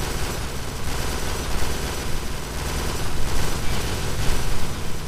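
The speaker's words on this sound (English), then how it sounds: "Is that guy seriously standing on the desk shooting at us?" Enemy gunfire in the Kane and Lynch 2 video game, a dense, continuous rattle of shots that runs for several seconds and swells louder toward the end, with no voices over it.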